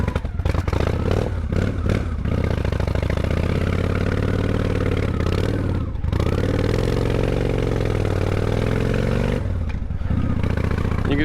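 A 1998 Honda Shadow motorcycle engine runs loud and close, with a steady throbbing idle, a few brief revs and clattering dips, and no talk.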